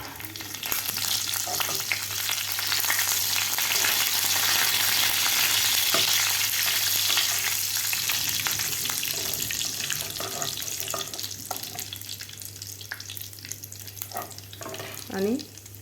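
Garlic and curry leaves fry in a pan for a kairi kadhi, giving a loud, steady sizzle with occasional stirring scrapes that stays close and continuous throughout.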